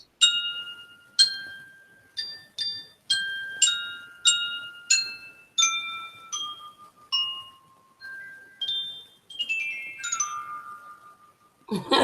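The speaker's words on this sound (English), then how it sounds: "Chimes. Wind chimes." Wind chimes ring in a run of bright, clear metallic strikes, each tone decaying before the next. The chimes cluster into quick tinkling flurries toward the end and sound fairly close, with no other sound.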